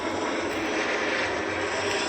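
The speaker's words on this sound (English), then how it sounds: "Man, that's got to be like the 7th plane." An airplane passes overhead near a dump, its engine a loud, continuous broadband roar that fills the whole moment without any break.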